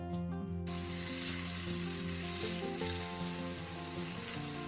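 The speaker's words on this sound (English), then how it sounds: "So first you're going to add in some of your olive oil or avocado oil into your pan" About two tablespoons of olive or avocado oil heating in an Instant Pot pan, giving a steady close sizzle with a tonal hum underneath after a brief quieter start, no talking.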